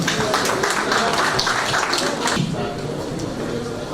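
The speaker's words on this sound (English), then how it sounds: "Now we clap for Dr. Joshua." An audience at a builders' conference technical session applauds a speaker with dense, steady clapping that thins out toward the end as the room quiets and a voice starts to speak.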